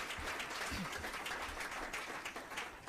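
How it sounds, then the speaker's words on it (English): Applause at the Lights on Afterschool celebration press conference: a faint, continuous patter of clapping from the crowd, with low murmurs and room noise underneath. "Let's give you a round of applause"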